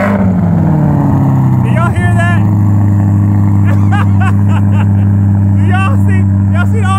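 A BMW 650i at a race track idles with a deep, steady, loud engine drone that settles after a brief early shift in pitch, while people talk and exclaim over it nearby.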